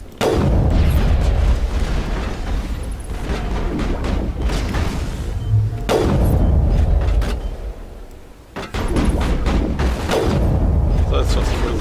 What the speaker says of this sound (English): Was that the grenade?